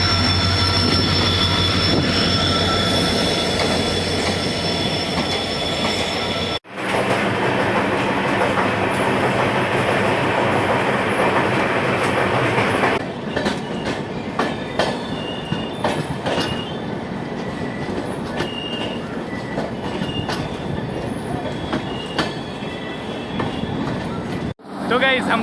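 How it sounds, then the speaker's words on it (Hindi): The Lucknow Chhapra Express pulls in at Ballia station on the North Eastern Railway platform, with a loud steady rumble of wheels and carriages and a rhythmic clatter over the rail joints. Brakes squeal high as it slows, and someone talks over it. "हमारे सामने खड़ी हो रही है लखनऊ छपरा एक्सप्रेस।"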